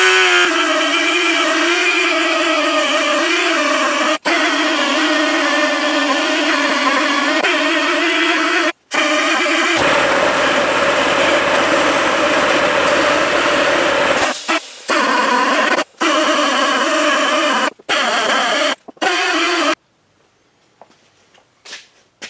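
A Dremel rotary tool fitted with a worn, beat-up old wire brush cleans a Honda 125cc engine, giving a loud continuous whirring buzz with brief stops and a rougher, deeper stretch mid-way before cutting out near the end.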